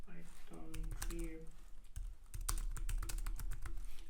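Computer keyboard typing, a quick run of sharp clicks in irregular bursts, close and fairly quiet, with a voice talking between and over the keystrokes.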